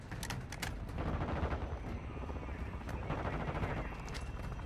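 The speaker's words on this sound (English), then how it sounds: "You are taking effective fire." Dense, rapid automatic gunfire rattles continuously in the Call of Duty DMZ video game, with overlapping shots and bursts forming a steady barrage.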